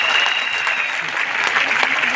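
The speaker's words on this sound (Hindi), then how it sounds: "एक बार जोरदार तालियां उनके लिए" Loud, steady applause from an audience at a DXN company meeting, dense clapping filling the whole short stretch with a few sharper claps standing out, no voice above it.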